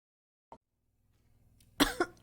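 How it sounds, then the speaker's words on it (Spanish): A single short cough, then after a pause a burst of harsh, loud coughs in quick succession, heard alone and close. "Le entró un ataque de tos violento"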